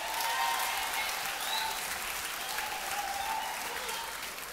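Concert audience applauding choir students, a steady wash of many hands clapping throughout, fairly distant and even, with no break.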